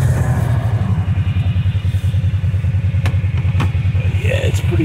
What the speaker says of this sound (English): it is hard on this ATV in the cold